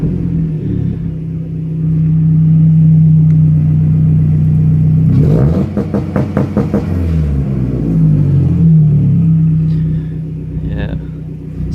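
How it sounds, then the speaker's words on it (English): A Mazdaspeed 3 engine idles loudly close by, then is given a couple of revs held down by launch control set to 3,000 rpm, with a steady rumble between the blips and no talk. "Give it a couple revs. It's got launch control set with the access port to 3 grand, so it doesn't rev higher than that."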